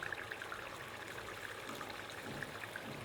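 Water is poured into a pot of simmering gatte curry, a gram-flour dumpling curry cooked on a low flame, making a faint, steady trickling splash with a soft hiss and no talking.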